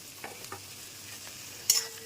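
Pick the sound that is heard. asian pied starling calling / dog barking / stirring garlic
stirring garlic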